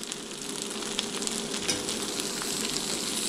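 Butter sizzles in a hot frying pan while cooking a Southern breakfast, a steady close hiss with faint crackles and small pops throughout, and no one talks.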